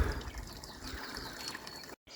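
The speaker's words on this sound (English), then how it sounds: "that's probably what they would call a waterfall beneath it" Water spills in a small waterfall at Becici on the Montenegrin coast, a soft, continuous trickling rush heard up close at low volume with no talking, cutting out briefly near the end.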